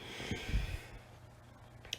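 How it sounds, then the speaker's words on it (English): A person yawning once, a close, breathy exhale that swells and fades over about a second and is followed by quiet. "I cannot stop yawning"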